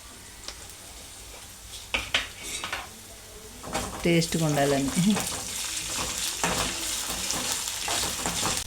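Ginger garlic paste fries in a hot pan for a bottle gourd and milk curry, giving a steady sizzle with clinks from a stirring utensil. A person speaks briefly over the frying.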